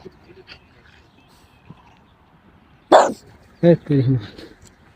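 Street dogs bark outdoors: one loud sudden bark, then a second burst of yelping barks a moment later, over a quiet background.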